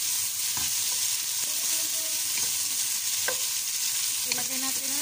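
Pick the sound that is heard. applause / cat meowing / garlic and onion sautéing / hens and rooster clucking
garlic and onion sautéing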